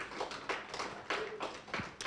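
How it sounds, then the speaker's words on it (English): A small audience claps for staff members, producing a brief, sparse burst of hand claps over about two seconds, fairly faint and uneven, with no speech over it. "If you'd like to give them a round of applause"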